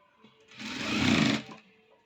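A brief burst of sewing machine stitching on a cross-cut blouse, roughly one second of close whirring that starts and stops abruptly, with no talking.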